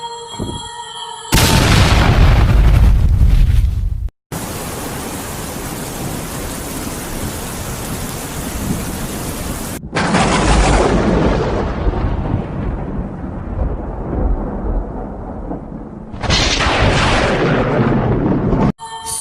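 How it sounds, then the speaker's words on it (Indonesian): A loud booming blast erupts, followed by long stretches of heavy rushing, rumbling noise that cut in and out abruptly. "Sedetik kemudian angkot itu pun meledak."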